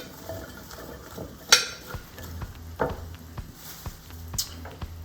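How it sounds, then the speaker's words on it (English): Beef and garlic being stirred in a crock pot, with soft scraping and clinks of a utensil against the pot, intermittent and close, with no talk. "Mix that around."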